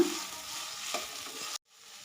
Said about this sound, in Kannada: ಈಗ ಕೊತ್ತಂಬರಿ ಸೊಪ್ಪು ಒಂದು ಬೌಲಷ್ಟು ಮತ್ತು ಪುದೀನಾನ ಒಂದು ಬೌಲಷ್ಟು ಹಾಕ್ಕೊಳ್ತಾ ಇದ್ದೀನಿ ಇದನ್ನು ಕೂಡ ಸ್ವಲ್ಪ ಫ್ರೈ ಮಾಡ್ಕೊಳ್ಳೋಣ